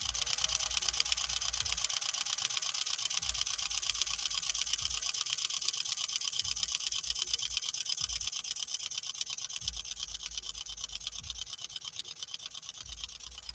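A 1940 Singer 201-2 sewing machine runs steadily, stitching cotton with a leather needle; a fast, even mechanical whir and rapid needle clatter continue close and loud throughout with no talk.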